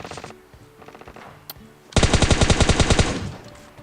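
Automatic gunfire in the mobile battle royale game PUBG Mobile: a scattered burst of shots, then a loud, rapid, evenly spaced volley of about a dozen rounds that ends abruptly, close and with no talk over it.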